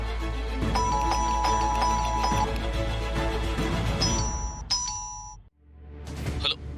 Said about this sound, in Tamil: ஆமா, காலிங் பெல் அடிக்கிற சவுண்ட் வருது.